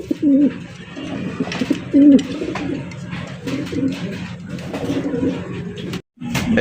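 Pigeons at a Bengali pigeon market, including fancy breeds such as Andalusians, coo repeatedly in deep rhythmic rolls that sit close and fairly loud over a steady background din of other birds.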